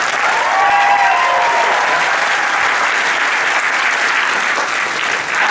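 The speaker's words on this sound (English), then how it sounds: "A wonderful round of applause for a female Ash here." A convention crowd at Wizard World Chicago breaks into loud, dense, sustained applause that stays steady throughout, with a brief faint whistle near the start and no clear speech.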